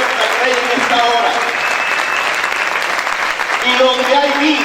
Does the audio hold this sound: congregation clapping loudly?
yes